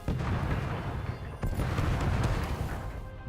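Cannons fire in the video game Stories: The Path of Destinies, a loud sustained barrage of deep booms and bursts with a brief dip before the rumbling volley resumes; no voices.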